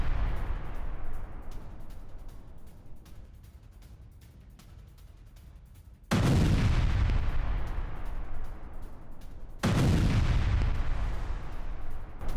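Heavy artillery or bomb blasts from a bombing raid on rebel positions in Syria, with a continuous low rumbling barrage and two sudden loud explosive bursts, each followed by sustained roaring noise.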